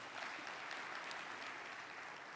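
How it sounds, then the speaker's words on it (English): Faint, steady applause from the audience at a celebration of Kenya's 60th diplomatic anniversary, a soft continuous patter of many hands heard from a distance. "Let's put our hands again together for them."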